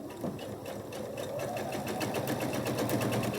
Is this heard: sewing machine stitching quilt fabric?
yes